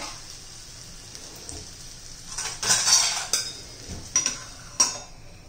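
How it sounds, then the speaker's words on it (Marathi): A metal lid set onto a cooking pan of potato and varai fasting vada, a few clattering clinks and light metallic knocks, close and fairly clear over a quiet background. "त्यासाठी त्याच्यावर आपण झाकण ठेवूया."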